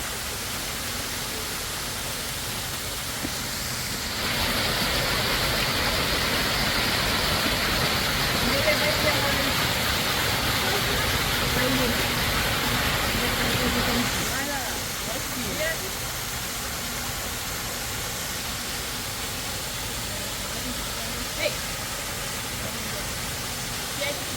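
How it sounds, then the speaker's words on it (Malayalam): Waterfall at Untermyer Garden in Yonkers, a steady broadband rush of falling water that swells louder for about ten seconds midway, then settles back to a constant wash with no talk over it. "എല്ലാവരും ഇങ്ങനെ നോക്കി ഇതുവഴിയാണ് ആ വെള്ളച്ചാട്ടം വരുന്നത്"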